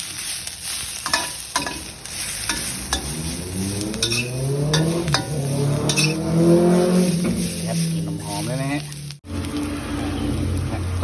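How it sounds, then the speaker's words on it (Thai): Chopped chili and galangal stir-fry in a hot pan, a continuous close sizzle with scraping and stirring strokes running throughout while someone talks over the cooking. "ทีนี้ก็ตามด้วยพริกกับ ตัวข่าสับนะครับ นี่เราก็ผัดนะครับ"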